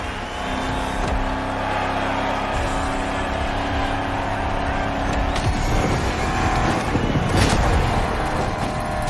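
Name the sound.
Shelby GT500 engine in video game The Crew Motorfest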